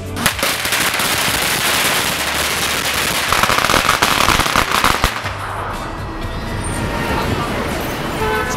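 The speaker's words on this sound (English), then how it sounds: "I'm gonna need a boatload of fireworks." Rapid crackling firecracker explosions pop continuously at close range amid loud crowd and street noise at a Super Bowl celebration, with Patriots cheers, then fade to background commotion.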